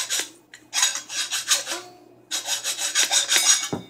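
A trumpet valve part being filed by hand: quick, rhythmic rasping strokes, loud and close, in two bursts separated by a short pause.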